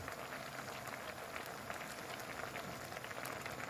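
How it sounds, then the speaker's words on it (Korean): A pot of Korean doenjang soup with shepherd's purse bubbles at a steady boil, a soft continuous burble of popping bubbles, fairly faint and close. "된장국이 다 됐습니다. 보글보글 끓고 있죠."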